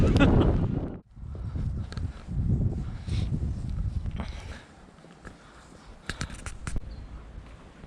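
Wind blowing outdoors on a motorcycle trip from Salzburg toward Montenegro: gusty low rumble buffeting the microphone, rising and falling under people talking nearby.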